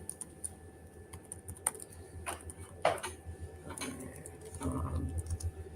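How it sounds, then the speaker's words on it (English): Sparse, quiet typing on a computer keyboard, a few scattered key taps spread over several seconds against a faint room background, with no talking. "it's very clear that I don't normally type on my keyboard"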